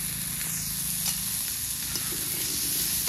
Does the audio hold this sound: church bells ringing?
no